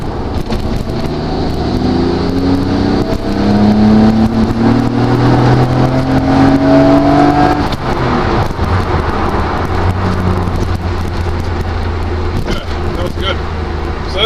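A Nissan R32 GT-R pulling hard under boost on the road, heard from inside: a loud, steady engine drone rising in pitch through the gear, then a shift with the note dropping and climbing again, with road noise throughout.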